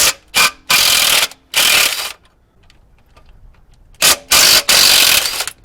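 An impact gun removes bolts from a Chevy HHR during a driveway transmission job, firing short loud rattling bursts: a quick cluster of three, a quiet pause, then three more hammering bursts close by.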